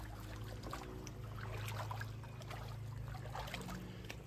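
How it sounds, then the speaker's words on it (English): Water runs steadily through an overflow trench at Greenbriar Lake, a faint continuous trickling and gurgling flow heard close by with no talking. "We got a good flow coming this way."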